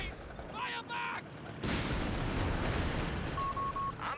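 Heavy machine gun fire from a US unit in the strategy game Company of Heroes 3 erupts into a dense, continuous roar of battle that holds steady for the last few seconds.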